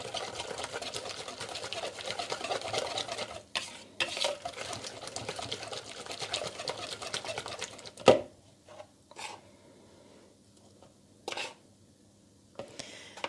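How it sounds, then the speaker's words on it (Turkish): Flour being whisked into pancake batter produces a rapid, rhythmic whirring rattle of a whisk in a bowl, steady for several seconds, then stopping and resuming in short bursts. "Şimdi yavaş yavaş unumuzu ekleyebiliriz çırparak."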